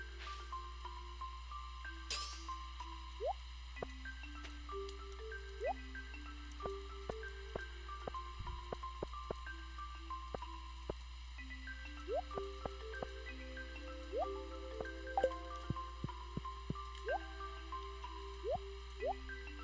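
Watering can sprinkling crops in the farming game Stardew Valley, soft repeated dripping splashes and pinging plucked tones over a looping game music background, steady and moderately quiet.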